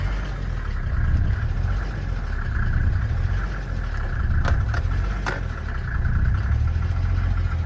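A 1987 Mercedes 300D turbo diesel idles steadily, its low, close clatter swelling and easing as the revs hunt between about 750 and 1,000.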